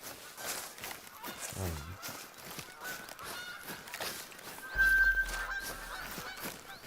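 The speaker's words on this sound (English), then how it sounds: "Obviously, there's geese everywhere." Geese honk repeatedly at moderate distance in a hunting video game, a scattered chorus of calls over a steady ambient bed, with a brief low thump partway through.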